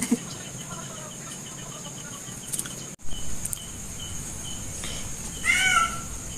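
A cat meows, one short call near the start and a louder, clearer meow near the end, over a quiet background with faint chirping and a brief dropout midway.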